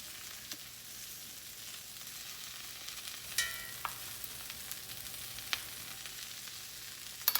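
Roasted garlic paste stirred into Brussels sprouts in a hot pan, giving a faint, steady sizzle with occasional sharp clicks and scrapes of a utensil against the pan.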